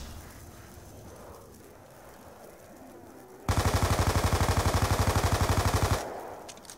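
MP5 submachine gun on full auto in Black Ops 2 Zombies on Bus Depot, one loud, rapid rattling burst of evenly spaced shots lasting about two and a half seconds after quiet background noise, then cutting off.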